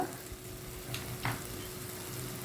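Curry leaves frying in a pan of chili-spiced egg curry make a soft, steady sizzle at a fairly low level, with a few faint stirring sounds and no speech.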